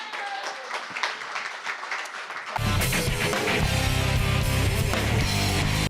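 After a short stretch of clattering noise, a broad wash of audience applause for a singer bursts in and holds steady and loud on a television show stage.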